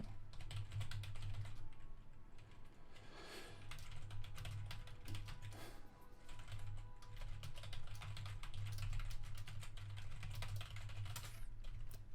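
Rapid typing on a computer keyboard, dense irregular key clicks continuing steadily for the full stretch, close and fairly quiet, with no talk.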